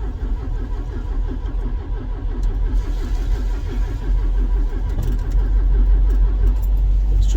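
A car engine cranks over and over on full choke in a steady rhythmic churn close by, then settles into a rough, heavy running rumble that grows slightly louder.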